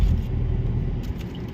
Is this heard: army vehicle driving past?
yes